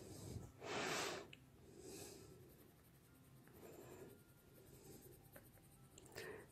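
A Prismacolor coloured pencil shades paper in small circles. It makes dry, scratchy rubbing strokes, with one loud, dense burst near the start and then softer, intermittent scraping passes with short pauses between them.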